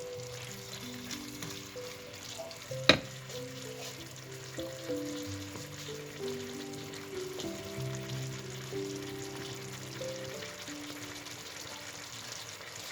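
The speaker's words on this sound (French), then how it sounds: "on laissera mijoter encore un peu" Chicken strips in curry with coconut milk and peppers simmer in a pan, a faint, steady bubbling sizzle under background music, broken once by a sharp utensil clink.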